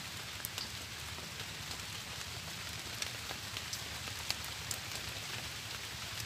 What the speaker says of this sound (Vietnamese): Đang mưa quá cái này.